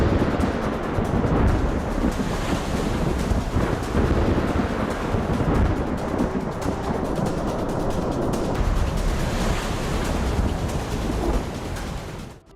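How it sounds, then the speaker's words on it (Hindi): Cyclone Yaas batters West Bengal with a continuous, loud roar of strong wind and driving rain near a river, the storm noise steady throughout before dropping off abruptly at the end. "पश्चिम बंगाल में यास तूफान से पहले नदी से लेकर जमीन तक बड़ा बवंडर दिखा"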